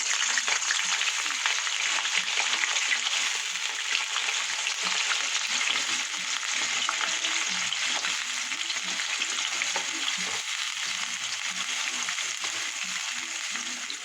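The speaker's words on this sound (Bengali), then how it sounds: "এবার এই আলুগুলো আগে ফার্স্টে ভাজা ভাজা করে দেবো" Potato pieces frying in hot oil with cumin seeds in a kadai, a steady bright sizzle with light stirring scrapes, close and continuous with no talking.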